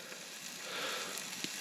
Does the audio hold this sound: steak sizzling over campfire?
yes